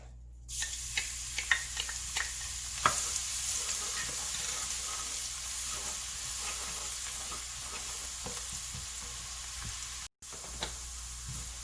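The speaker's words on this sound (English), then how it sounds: "so I have here some oil, about 1/3 cup oil. Gonna add in the garlic." Garlic frying in about a third cup of oil for a spicy Lao pepper paste, a steady close sizzle running the whole time with scattered sharp pops and crackles and a brief pause near the end.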